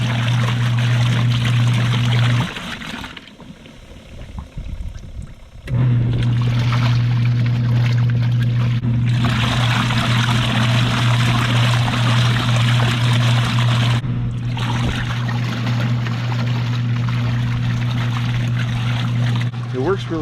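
RV washing machine agitating a load of water: a steady mechanical hum with broad sloshing wash noise that stops briefly early on, then keeps churning steadily and close by.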